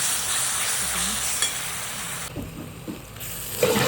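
Homemade spice masala with garam masala and raw ground paste being stirred and fried in a hot pan for pea pulao, a steady close sizzle with scraping stirs throughout.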